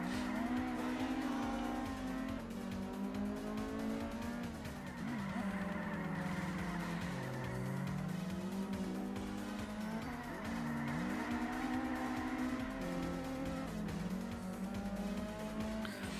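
Mazda MX-5 race cars in a racing game drone continuously at high revs, the engine pitch sliding up and down through gear changes and corners, with occasional tire squeal.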